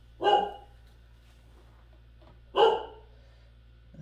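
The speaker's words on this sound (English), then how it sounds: "The dogs disturbing the peace." Two loud dog barks, a couple of seconds apart, with quiet pauses between them and a faint hum underneath.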